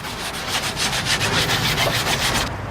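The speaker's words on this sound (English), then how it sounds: "So now that we've properly sanded both the tank and the tank sump base" A fiberglass tank and tank sump base are sanded by hand in rapid, rhythmic rubbing strokes, a close, continuous scratchy rasp with no talking.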